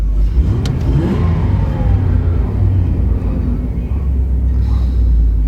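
An old car engine revs loudly and close by, a steady deep rumble that holds throughout with a slight rise and fall in pitch.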